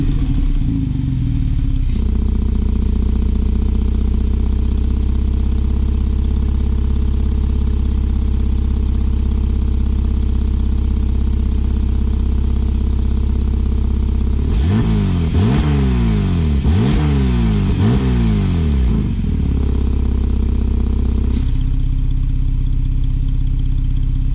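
A 2017 Porsche 911 GTS Targa 4 sport exhaust idles with a deep rumble, then a burst of sharp revs blares loudly up and down before settling back to idle.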